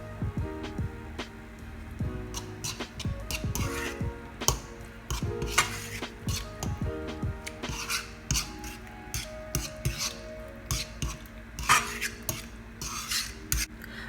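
Prawns stirred into a curry in a pan, with repeated scraping and clinking of a utensil against the pan in an uneven rhythm, close and fairly quiet.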